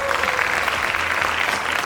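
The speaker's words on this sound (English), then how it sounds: "So a round of applause to these wonderful gentlemen." Steady, dense audience applause rises for two scholar athletes at an early signing day event, a continuous wash of many hands clapping close by.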